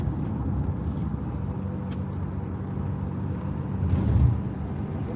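A Renault Master 2.3 dCi van's diesel engine hums steadily while driving, a low, even rumble heard from inside the cab, swelling briefly louder near the end, with no speech.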